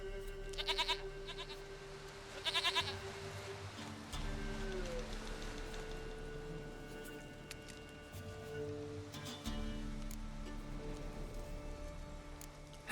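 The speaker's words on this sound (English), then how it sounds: "Goat of mine, dearest, sweetest goat." A goat bleats in The Witcher 3 video game, a few short wavering cries over steady background music and ambient sound.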